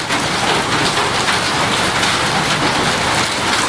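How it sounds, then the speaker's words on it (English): Heavy rain at night, captured on a Zoom recorder in surround mode, pours as a dense, loud, steady hiss of drops on surfaces with no pauses and no voices. "you mean the raindrops are louder with the zoom?"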